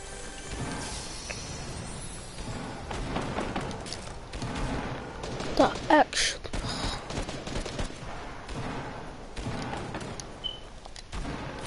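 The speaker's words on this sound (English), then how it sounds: "SMG." Rapid SMG bursts in a shooter video game, several volleys of close automatic fire with a couple of sharper, louder cracks partway through, over a busy background of game noise.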